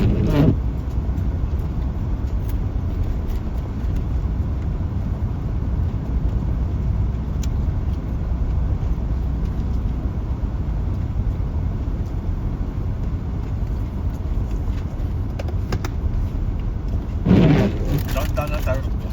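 Cars in road traffic on a snowy road, heard from inside a vehicle as a steady, loud low engine and road rumble with no breaks, plus a short louder surge near the end.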